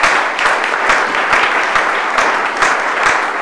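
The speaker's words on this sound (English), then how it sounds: "give you another round of applause" A crowd applauds young teams at a certificate ceremony, a steady round of clapping with sharper individual claps standing out, loud and sustained throughout with no talking.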